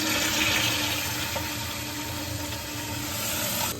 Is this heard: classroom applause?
no